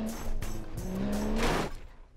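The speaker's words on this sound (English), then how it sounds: "The first thing to do at any new map is to drive straight and see what happens." A car drives in the BeamNG driving game. The engine tone rises steadily while the tires squeal briefly, loud and continuous, with no voices.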